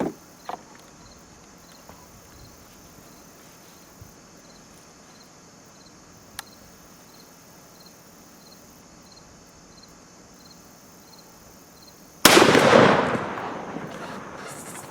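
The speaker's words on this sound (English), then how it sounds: "last shot with the Fox Trot ammo, TSS, 60 yards" A shotgun fires a single loud blast of Fox Trot TSS turkey ammo at 60 yards, coming suddenly after a long quiet outdoor stretch with faint ticks, then ringing and decaying for a couple of seconds.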